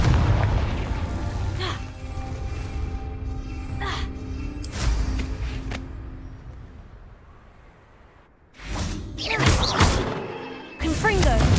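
Fiery Confringo spell explosions in Hogwarts Legacy, several loud thudding blasts and crashes, with a quieter lull before two sharp bursts near the end.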